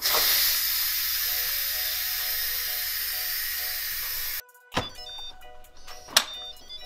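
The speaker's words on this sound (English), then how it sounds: "now we're going to go ahead and just release the rest of the pressure" A pressure cooker holding beef brisket vents steam in a steady, loud, broadband hiss for several seconds. It then cuts off abruptly, followed by a few clicks and knocks of the valve and lid.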